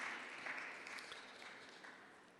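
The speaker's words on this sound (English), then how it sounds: "let's give a round of applause for the organizers and the partners and the sponsors tonight" Faint applause from a crowd, a soft steady patter of clapping heard from a distance.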